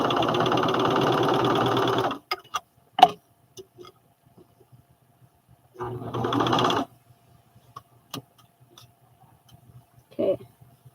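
A sewing machine stitching McCall's 7464 overalls runs in two bursts, a longer whirring run at the start and a shorter one midway, with scattered ticks and clicks in the quiet between.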